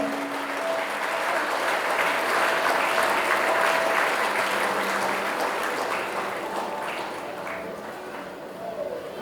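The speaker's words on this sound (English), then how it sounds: "let's give a big round of applause for our chief guest" Steady school annual day audience applause fills the whole stretch, a dense wash of clapping from many hands that swells slightly then tapers a little toward the end.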